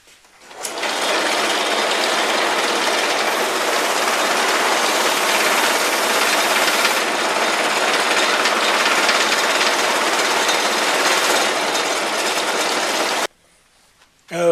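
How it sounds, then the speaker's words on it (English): A guitar nut being buffed to a glossy shine on a motorized buffer, a loud continuous whirring grind running steadily for about twelve seconds before cutting off abruptly. "the final step now is going to be to buff it up to a nice glossy shine"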